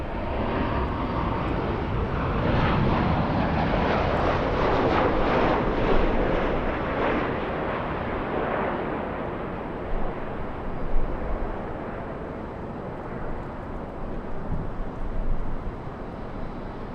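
United airliner on final approach landing at LAX in gusty winds, a loud rushing jet roar that swells early then eases, with wind buffeting the microphone and brief gusty thumps toward the end.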